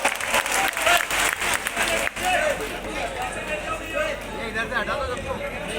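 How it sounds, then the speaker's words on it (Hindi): Crowd applause at a Congress political rally in Rajgarh, Madhya Pradesh, loud dense clapping from a large gathering with cheering, chatter and a speaker's voice over it. "जोरदार तालियों के साथ"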